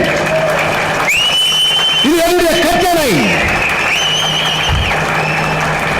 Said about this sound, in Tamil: கைதட்டுங்கள்